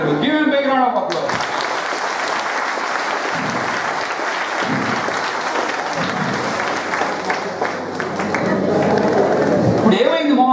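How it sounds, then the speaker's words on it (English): Audience applause after a volunteer's exercise demonstration on stage, a long loud burst of clapping from a crowd, with voices speaking at the start and again near the end. "Give him a big round of applause"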